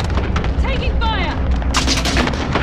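Gunfire in Call of Duty: Warzone, a dense run of loud, close shots and blasts that carries on throughout, mixed with game sound effects and some faint voice chatter.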